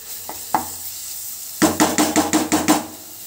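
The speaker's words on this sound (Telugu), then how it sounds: "ఇప్పుడు ఈ మసాలా అంతా ఫ్రై చేసుకోవాలి" Masala spices frying in oil for a fish curry, with a few faint clicks followed by a burst of about seven quick, close utensil strikes against the pan over a soft sizzle.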